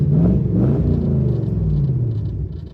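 An Infiniti Q45 engine idles loudly and close by just after starting, a deep steady rumble with a slight wobble in pitch, running on its own without talk.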